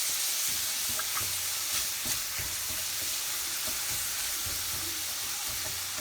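Garlic and ginger sizzle steadily in a hot pan as they are stirred, a bright continuous frying hiss with soft scraping of the utensil underneath.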